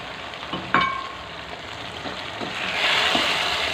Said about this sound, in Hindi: देखें, चिकन हमने अच्छे से भून ली है।